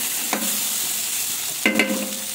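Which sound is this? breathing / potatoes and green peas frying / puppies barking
potatoes and green peas frying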